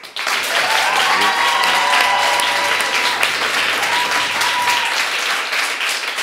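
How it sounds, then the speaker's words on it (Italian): Students from the Romero school in Albino applaud by stamping their feet, a loud, sustained, dense roar of crowd noise filling the room, steady throughout with a brief fade at the close. "gli inventori dell'applauso con i piedi"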